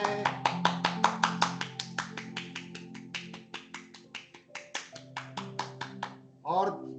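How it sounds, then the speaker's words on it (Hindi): Participants in a yoga and meditation session clap in a fast, even rhythm, about two dozen crisp claps with a short pause, and a voice cuts in briefly at the close. "और जोरदार तालियां बजाएं"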